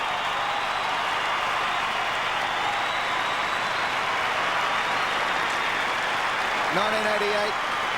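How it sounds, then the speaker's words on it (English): A large stadium crowd cheers and applauds a champion footballer at an arena, a broad continuous roar heard from a distance, with a brief tonal sound near the end. "the final accolade to a champion to be cheered from the arena. Listen to the crowd."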